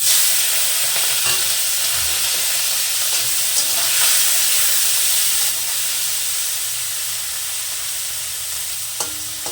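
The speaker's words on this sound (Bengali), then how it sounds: "কড়াইতে তেল দিয়ে দিলাম মাছ কাটা ভাজবো" Chanda fish pieces coated in salt and turmeric fry in hot oil in a wok. The steady, loud hissing sizzle fades slightly toward the end, with occasional small clicks and no talking.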